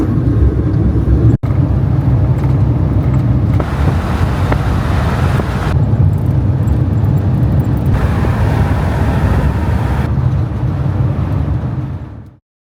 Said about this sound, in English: It's surprising how much smoother the engine sounds as well, how much quieter the engine is.